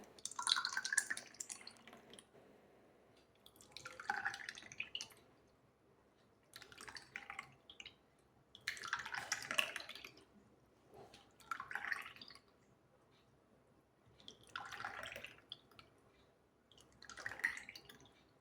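Aloe vera ice cream mixture is poured in six or seven quiet, separate bursts of trickling, dripping liquid, each lasting a second or two with pauses between.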